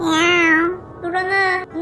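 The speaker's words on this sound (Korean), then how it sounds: "야옹." A cat gives two drawn-out meows in quick succession, close and loud, the first longer than the second, with no other sound around them.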